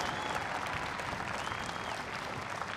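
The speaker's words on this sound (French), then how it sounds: "Allez, applaudissements encore" Dense, steady applause from a convention audience at a gaming show panel with actors, continuous and fairly distant with no talking.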